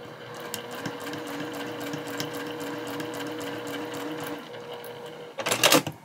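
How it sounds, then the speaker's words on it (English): A sewing machine runs steadily while stitching a line across a fabric drawstring project bag, a close, even mechanical whir that ends in a brief louder, harsher burst. "What I can also do at the end is do a complete line of stitching across to hide"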